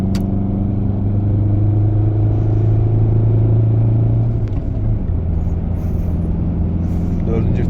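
A 2012 Ford Fiesta 1.4 TDCi 70 PS diesel pulls in third gear on an uphill curve, its loud, steady engine drone and cabin rumble rising and then shifting in pitch while someone talks over it.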